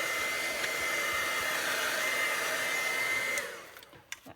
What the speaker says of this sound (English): So I'm going to hit this with my heat tool one more time.